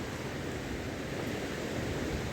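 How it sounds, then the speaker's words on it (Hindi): Tons river flowing below a damaged old village bridge at Buthotra, a steady broadband rush of moving water heard continuously and fairly loud, with no voices. "नीचे बहती हुई है टोंस नदी"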